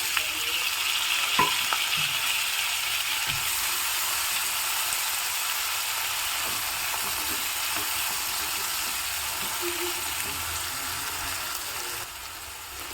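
Chopped onion and tomato fry in a pan for a ridge gourd side dish, a steady broad sizzle running throughout with a few faint utensil scrapes and taps, fairly close and unaccompanied by talk.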